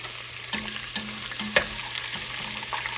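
Breadcrumb-coated shrimp frying in hot oil in the final batch, a steady close sizzle broken by soft, regular taps and stirring clicks about every half second.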